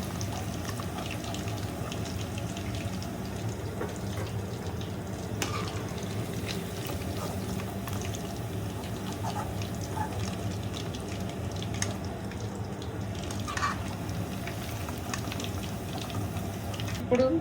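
Chicken pieces sizzling in hot oil in a pan, a steady, continuous bubbling crackle with occasional louder pops, heard fairly close.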